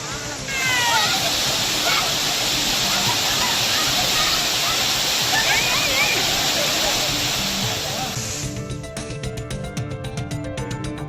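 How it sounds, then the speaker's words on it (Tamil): The Megamalai waterfall near Kombaithozhu roars in flood, a loud, dense, unbroken rush of water that gives way near the end to other noise. "கோம்பைத்தூடு அருகே உள்ள மேகமலை அருவியில் வெள்ளப்பெருக்கு ஏற்பட்டது"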